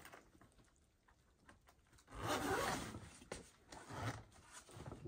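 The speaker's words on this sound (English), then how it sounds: "Stubborn zipper!" A stubborn bag zipper being tugged open, quiet scratchy rubbing that swells into a louder rasping pull in the middle and again near the end, close and alone.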